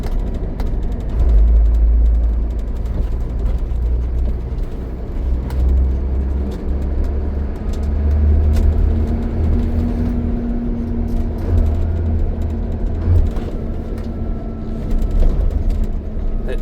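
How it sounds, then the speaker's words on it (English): A traffic control truck moves off from a standstill and pulls away, a steady low engine rumble and road noise rising gently and holding for many seconds with no voices. "Traffic control truck just started moving. It was stationary, now it's rolling."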